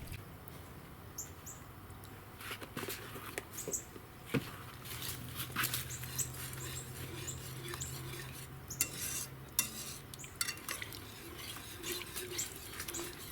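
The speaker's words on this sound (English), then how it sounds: "You want to stir it, make sure it doesn't scald the milk on the bottom." A utensil stirs milk for corn pudding in a pot on a grill side burner, faint scraping and clinking strokes repeating irregularly against the metal, close but quiet, with no talking.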